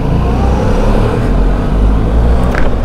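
A car pulls away on a road in the Harz region, a loud steady engine drone close by with rumbling low tones and no speech over it.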